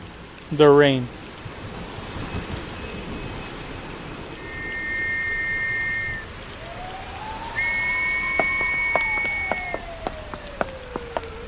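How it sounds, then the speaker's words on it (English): Rain falls steadily as a constant hiss throughout, with sustained whistling tones and a sliding tone layered over it and a short wavering vocal-like sound near the start. "The rain."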